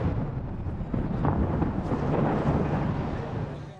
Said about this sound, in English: The sound of gunfire and explosions in the distance,